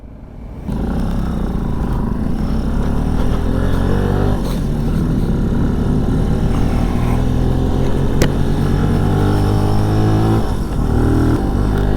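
A 2022 Benelli Tornado TNT 125 motorcycle climbs a hill at a festival, its small engine droning steadily loud and close with gradually rising pitch as it pulls up toward 30 mph, with continuous wind buffeting.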